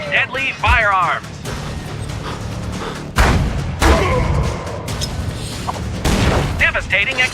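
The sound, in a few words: explosions from a battle royale video game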